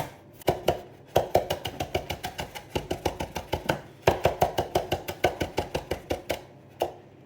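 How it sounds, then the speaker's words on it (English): A knife chopping a handful of parsley on a board, quick close rhythmic knocks in two fast runs separated by a brief pause, with no one speaking. "handful of parsley. We'll chop that up."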